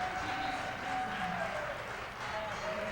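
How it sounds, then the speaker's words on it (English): The crowd at a DrMC 2023 championship top-8 tournament match cheers as a steady, noisy roar, with commentators' voices and tonal sounds running through it. "You can hear the crowd."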